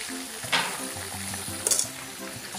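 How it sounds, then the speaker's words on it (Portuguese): Steady oily sizzling of chicken wings frying, close and continuous, with a couple of brief clinks or stirs over the crackle. "asinha fritando, né, com a coxinha da asa."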